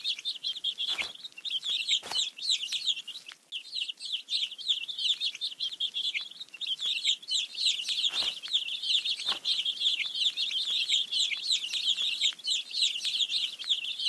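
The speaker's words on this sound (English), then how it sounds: "Feed the hungry baby birds with some seeds." Baby birds in a kids' numbers video game chirp continuously, a dense stream of rapid high-pitched tweets and peeps with a few soft thumps, loud and close with no talking.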